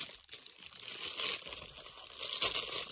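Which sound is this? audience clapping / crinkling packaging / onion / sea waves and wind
crinkling packaging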